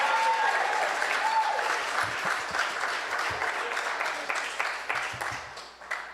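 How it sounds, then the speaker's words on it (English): A crowd applauds steadily, a thick, even patter of clapping with a few whoops near the start that thins slightly over six seconds. "so give him another round of applause."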